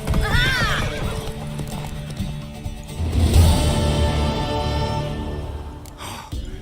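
In The Witcher 3 video game, a horse whinnies loudly near the start, then hooves clip-clop steadily along, with heavy snorting and breathing; a final brief neigh at the end.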